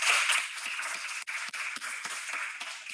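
A webinar audience applauding the speakers, a dense, even wash of many hands clapping at once, steady and fairly loud throughout without any voices.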